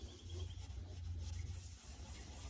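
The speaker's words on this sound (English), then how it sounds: "I've not even washed this headlight or anything, so we'll rub it in and see how it goes." A cloth works restoring paste into an unwashed, faded car headlight, producing a steady, close rubbing swish with a low continuous rumble underneath, heard alone without talk.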